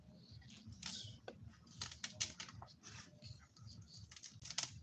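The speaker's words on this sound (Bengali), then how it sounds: "এখন যেটা কাটছি এটা হলো কবির ডাটা" A knife chops through kohlrabi stalks with quick, irregular crisp cuts and taps against a board, faint and close, with a low background hum and no speech.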